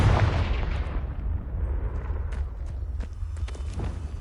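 Confringo fire blast spell in the Hogwarts Legacy video game on PS5, a loud boom that opens the clip and decays into a rumbling tail, with scattered small impacts following and no talk.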